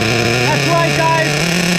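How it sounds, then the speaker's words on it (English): Twin nitro engines on an Ofna Twin Titan RC vehicle run rich and loud, a dense buzzing drone with fluctuating revs, close up, with a voice speaking briefly over it. "Second engine running rich and loud."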